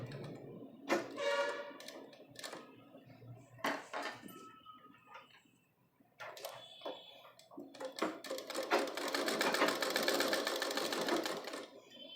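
A sewing machine stitches a decorative dori for a blouse, running in short bursts with pauses between, then a longer steady whirring, close-up and clear with no talking.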